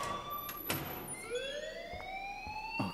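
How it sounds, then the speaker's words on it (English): Fire alarm in the video game Life is Strange: a loud, wailing electronic alarm sweeps upward in pitch and holds steady, ringing continuously with a few sharp knocks and thuds over it. "please turn off that alarm since that's your job"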